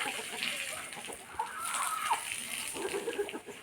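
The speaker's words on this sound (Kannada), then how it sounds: "ಸೂಪರ್ ಇದೆ ಹುಂಜ ನೋಡಿ ಹೆಂಗಿದೆ" A rooster in a home garden gives a few short, nearby calls over a continuous watery sloshing background, with no clear long crow standing out.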